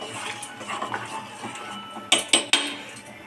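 A metal spoon stirs rice with salt in a kadhai, with soft scraping followed by three sharp, close clinks against the pan's side.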